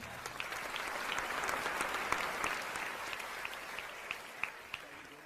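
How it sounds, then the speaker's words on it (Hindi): A crowd applauds Dharmendra, the 'Coconut Man', on stage after his strength feat of bending a wrench, steady dense clapping throughout with a few sharper claps standing out. "धर्मेंद्र भैया के लिए पुनः तालियां"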